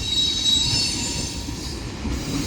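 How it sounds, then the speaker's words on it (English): A long BNSF mixed freight train rolls past Central Avenue, its wagons rumbling steadily with faint wheel squeal over the constant low roar, close and continuous with no voices. "And this train seems to be a pretty decent size."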